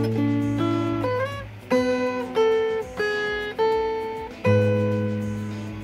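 Fingerstyle acoustic guitar picks out a song, a few plucked chords and melody notes ringing clearly and decaying between attacks, played alone without speech.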